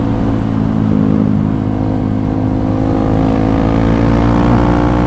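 A Honda CRF trail motorcycle engine drones loudly and steadily with a humming exhaust note, holding a constant pitch throughout.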